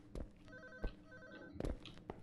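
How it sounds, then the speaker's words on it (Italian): A telephone rings faintly somewhere in the horror video game Unspoken, its tones sounding under a few loud thumps that could be footsteps. "dobbiamo seguire il suono di quel maledetto telefono"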